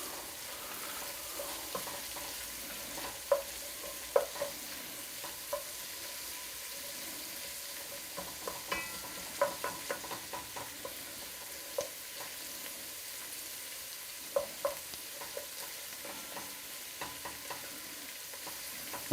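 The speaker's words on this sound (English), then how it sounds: "you're basically going to fry your dry spice with your onion" Dry spices fry with onion in a pan for a lamb and chickpea curry, a soft steady sizzle with scattered clicks and taps of stirring, fairly quiet and without talking.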